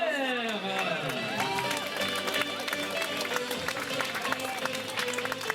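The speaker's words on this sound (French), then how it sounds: "Applaudissements pour Pierre." A crowd at a 5 km road race awards ceremony in Seurre applauds a prize winner with steady, dense clapping that lasts throughout, while voices carry over it.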